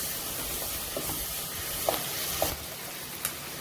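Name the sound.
onions frying in a pan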